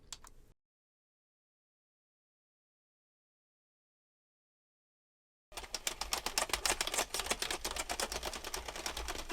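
A hand-cranked knitting machine runs with a dense, rapid train of mechanical clicks and clatter. It starts abruptly after a long silence and stays loud and steady to the end.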